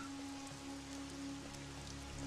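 Heavy rain falls steadily on a village road, a constant close hiss of drops with a faint low hum running underneath.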